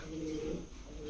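Pigeons coo softly at a pigeon shop, a brief low burbling call over a dull background hum, faint and close by, with no talking.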